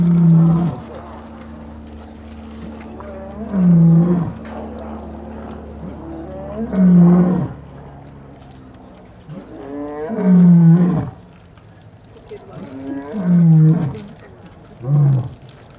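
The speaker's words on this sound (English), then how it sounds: "Now our lion is going to roar." A lion at the Vredenheim big cats park in Stellenbosch, South Africa, roars in a slow series of deep, loud grunting bursts, roughly six of them spaced a few seconds apart, with no voices over them.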